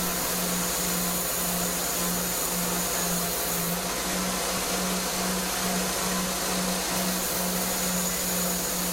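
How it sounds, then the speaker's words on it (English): A grinder roughing out a razor blade: a steady, loud, unbroken whirring drone with a faint rhythmic pulse and abrasive hiss, heard close and alone for the whole stretch. "And now I'm starting the rough grind process."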